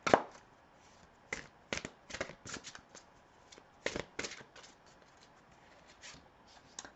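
A tarot deck is shuffled by hand: soft, close papery riffles and slaps come in irregular bursts over a quiet background, with no talking.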